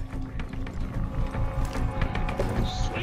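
Horses galloping in the Far Cry 6 video game, a steady run of hoof clip-clops over a dense low game soundscape, with faint voices mixed in.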